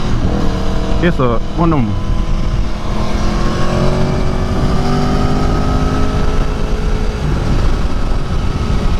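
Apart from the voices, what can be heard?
Aprilia Tuono V4 motorcycle engine while riding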